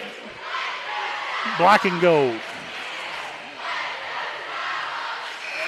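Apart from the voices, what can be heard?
cheering crowd at high school basketball game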